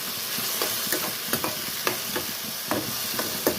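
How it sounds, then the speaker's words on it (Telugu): Tomatoes and ginger paste are stirred in a pan with repeated scraping strokes roughly every half second over a soft continuous sizzle, close and fairly quiet. "టమాటాలు వేసుకొని అల్లం పేస్ట్ వేసుకొని బాగా కలుపుకోవాలి"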